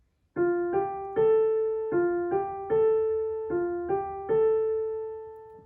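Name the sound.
piano playing F G A notes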